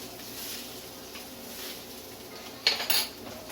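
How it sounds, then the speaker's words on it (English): A pork sausage schnitzel is flipped in a frying pan with a spatula, giving two quick metallic clinks near the end over a faint, steady sizzle. "I'm going to flip it now."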